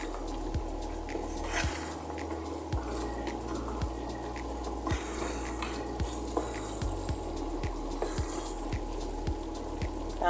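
Chicken for halang halang manok frying in a pan while being stirred, a constant sizzle broken by regular scraping clicks of the utensil against the pan, close up and with no talking.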